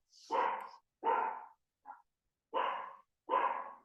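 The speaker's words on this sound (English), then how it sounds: "Who's my dog barking at?" A dog barks indoors in a series of five loud, separate barks with short pauses between them, one softer yip in the middle, and no other sound.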